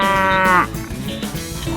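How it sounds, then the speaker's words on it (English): A farm cow gives one close, loud moo that fades into barnyard background. "Cow."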